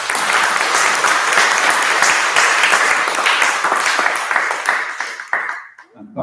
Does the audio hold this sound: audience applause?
yes